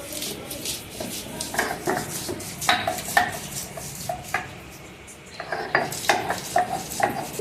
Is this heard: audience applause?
no